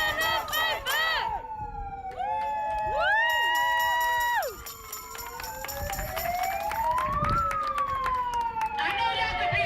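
Police sirens wail and yelp in overlapping sweeps, rising and falling while a protest crowd murmurs and shouts in the background.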